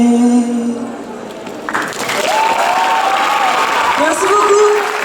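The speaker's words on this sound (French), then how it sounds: "On applaudit très fort" Crowd applause after a poetry performance at an outdoor protest action by intermittent performers, clapping swelling after a singing voice fades, with people speaking and calling out over it.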